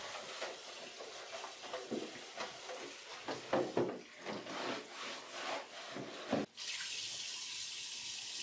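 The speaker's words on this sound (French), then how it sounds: "Utilisez une brosse douce aussi afin de nettoyer tout le résidu à l'intérieur." A coffee machine's waste bin is scrubbed with a soft brush under warm running water, close rhythmic rubbing and splashing strokes, ending in a steady stream from the faucet.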